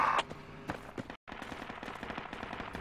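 Bursts of automatic gunfire from a technical vehicle in the tactical shooter Project Reality, rapid dense rattling shots at mid distance with a brief silent gap, no talk.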